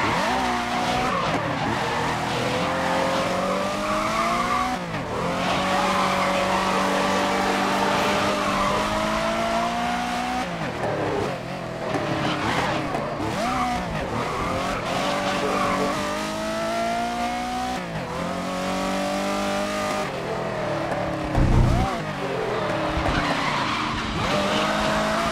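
A race car in the GRID (2019) racing game roars through laps with continuous engine howl, repeated gear-shift pitch sweeps and frequent tire squeal and skidding, loud and sustained throughout.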